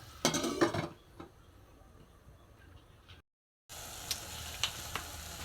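A lid clatters onto a metal pot of tinolang manok with chayote, a few sharp clanks up close, then a soft simmering hiss that cuts out briefly and returns as a steady sizzle with small ticks.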